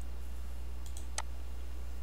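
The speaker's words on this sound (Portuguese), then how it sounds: "agora eu clico aqui em upload" A couple of faint, quick clicks like a computer mouse button, set against a steady low hum with no talking.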